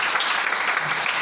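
A church congregation applauding to acclaim the Lord, a brief burst of dense, even clapping from many hands.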